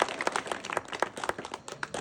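Audience at a commemorative gathering breaking into applause, a dense, fairly soft crackle of many hands clapping throughout.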